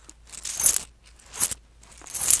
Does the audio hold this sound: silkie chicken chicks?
no